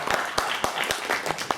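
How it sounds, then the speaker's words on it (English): A small audience at an open day panel gives a short round of applause, with a few sharp, close claps standing out over a denser clapping texture. "we should give you a round of applause for that"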